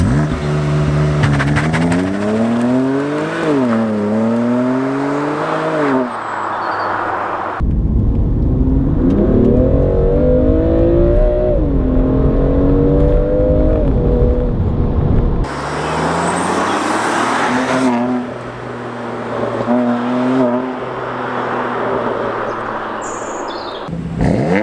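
BMW M2 Competition launching hard with traction control fully off, engine revving up through rising gear pulls with shifts between them, loud and close, passing through changing surroundings with no talking.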